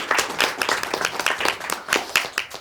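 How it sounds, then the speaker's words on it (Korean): Steady applause from a small crowd welcoming a speaker at a school admissions information session, a dense patter of hand claps continuing evenly throughout. "큰 박수로 모시도록 하겠습니다."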